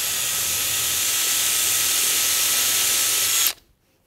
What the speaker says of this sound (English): we're gonna turn it on, we're gonna drill.